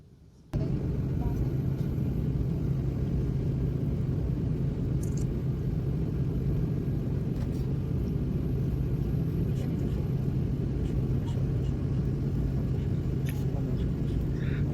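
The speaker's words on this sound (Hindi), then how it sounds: "अब जयपुर उतरने के लिए रेडी हो रहा है प्लेन, और लैंडिंग में भी डर लगता ही है।" A small passenger plane descends to land at Jaipur airport. Seen from inside the cabin, a loud, unbroken engine drone and rumble begins abruptly and holds steady throughout.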